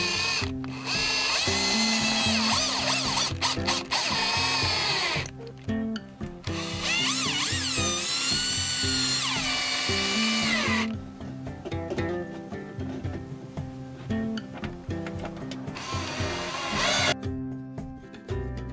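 A power drill drives screws through curtain rod brackets into drywall anchors inside a camper van, sounding in several loud whirring bursts that rise and fall in pitch, split by short pauses and clicks.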